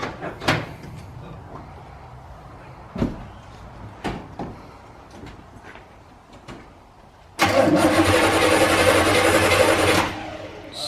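A 1984 GMC Sierra 3/4-ton pickup with a 454 big block, abandoned for 19 years, cranking over in a steady loud churn for about three seconds after some scattered clunks and knocks.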